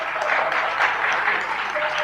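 Warm applause rises from an audience at a devotional satsang gathering to honor the tabla player, with steady clapping that keeps going without a break and sounds moderately distant.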